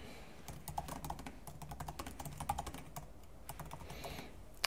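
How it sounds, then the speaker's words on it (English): Rapid typing on a computer keyboard, a steady run of light clicks with occasional louder key strikes, close and clear with no voices. "So in the title field, I'm going to type in the instructions."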